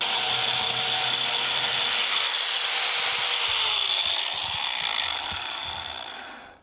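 Biscuit joiner spinning up and cutting slots into a wood edge, a loud steady high-pitched whine with broadband cutting noise that fades out as the blade spins down near the end; no talking.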